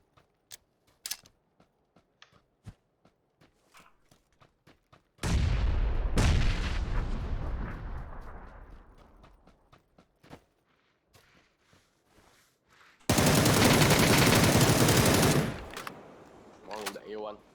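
Gunfire in a shooting video game: scattered single shots, then two long loud bursts of sustained automatic fire with a decaying tail, separated by sparse shots and clicks.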